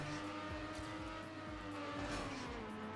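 Race car engine in Trackmania Nations Forever, a steady high-pitched droning whine with shifting revs, close and continuous.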